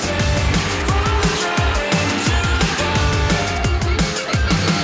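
Race cars, a Viper among them, roar off the start together, engines loud and layered with rapid upshifts and revving that rises and falls continuously, close and dense with no talk.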